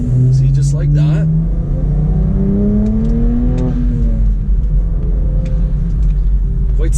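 A car with a manual transmission accelerates after a gear shift, the engine note rising loud and close in a smooth sweep, then settling into a steady road rumble while someone talks over it.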